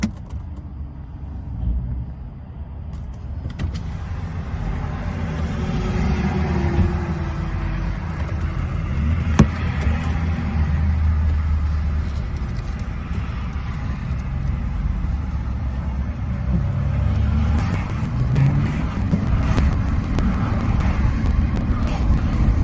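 A BMW car drives while towing a 3/4 ton pickup truck with a blown engine, giving a steady low road rumble and engine drone throughout, with occasional faint knocks and rattles.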